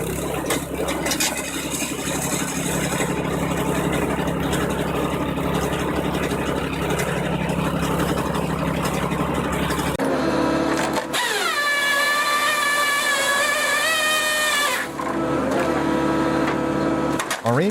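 DR Rapid Fire 28-ton wood splitter running steadily with a loud, continuous engine drone, then a sudden shift to a strained, rising whine for several seconds before the sound settles.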